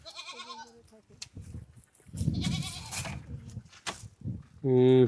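A goat bleats in wavering cries at the start and again loudly at the end, with people talking in between, on a remote Padma River char.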